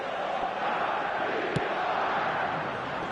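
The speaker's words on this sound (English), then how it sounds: "The crowd reaction tells you just how close that was." A large stadium crowd in the eFootball 2026 football video game gives a sustained, dense roar of reaction at a steady level, with one brief sharper spike partway through.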